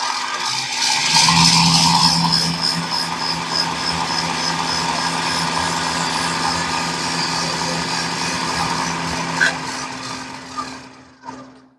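A KitchenAid apple peeler corer slicer attachment runs steadily, giving a continuous whirring motor hum with scraping as the apple turns, then winding down near the end.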